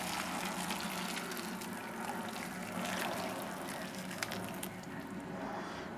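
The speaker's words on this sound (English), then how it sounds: "I'm just going to drain this through a chinois" Soup stock for an artichoke, mushroom and potato soup pours through a chinois strainer, a steady rushing gush and trickle of liquid running continuously at moderate volume with faint clinks.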